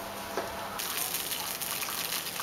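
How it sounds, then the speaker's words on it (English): Juice drained off a roasting pork joint pours in a faint, continuous gushing stream for a couple of seconds, with no talk. "I might drain the juice off, the wet juice might stop it from browning."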